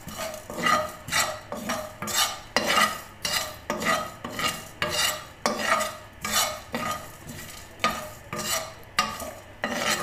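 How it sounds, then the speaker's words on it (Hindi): Whole cinnamon, green cardamom and black peppercorns dry-roast in a hot frying pan, scraped and stirred in a steady rhythm of rasping strokes about twice a second, close and alone. "पहले फ्राई पैन को अच्छी तरह गर्म कर लेना है और इसको बस 2 मिनट के लिए बस भूनना है"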